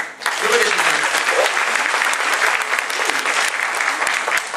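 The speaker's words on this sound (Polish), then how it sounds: "Małże, brawa!" Audience applause for the Małże cabaret troupe fills a live cabaret show, dense sustained clapping from a large crowd that starts abruptly and stays loud and steady throughout, with voices faintly mixed in at the start.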